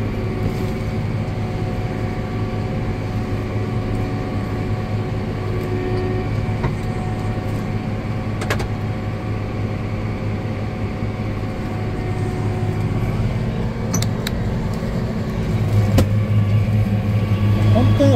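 A forage harvester cutting dent corn gives a steady, low, even engine hum that runs unbroken throughout, fairly quiet for the machine, with a slight rise near the end and someone speaking over it.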